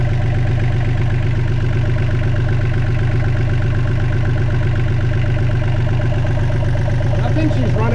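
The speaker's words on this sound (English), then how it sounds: "I think she's running quite okay for a little 3-cylinder engine." A small 3-cylinder diesel engine idles close by, loud and steady, with an even low mechanical drone throughout and a faint extra rattle near the end.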